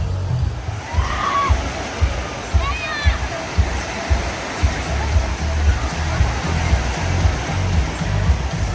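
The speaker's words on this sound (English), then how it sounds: "Check out the size of this wave pool." A large wave pool at Dollywood Splash Country water park fills the air with a steady, loud rush of churning water and broad sloshing, with faint voices and occasional distant calls mixed in.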